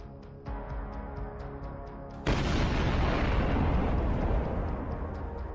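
Landmine blast under a retreating tank in a drone-filmed war scene: a sudden, loud, broad roar that keeps rumbling at full strength over a steady background drone.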